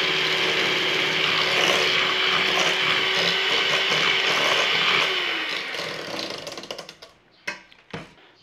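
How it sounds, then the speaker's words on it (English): Electric mixer creaming butter and sugar in a bowl, a steady mechanical whir and rattle close by that slows and winds down after about six seconds, followed by a few knocks. "So just cream that butter and sugar together."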